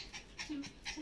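A dog panting close by: quick, rhythmic breaths, four or so short huffs in about a second, with faint whiny tones between them and no talk.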